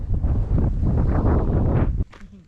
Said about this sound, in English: Kind of windy up here